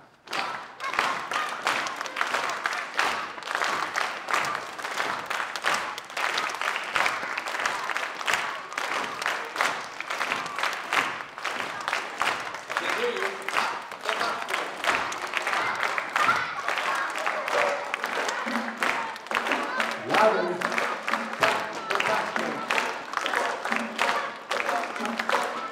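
Children at a kids show clap along together, a dense, continuous patter of hand claps with some steady thumping underneath, lasting throughout and fairly loud, with occasional voices mixed in.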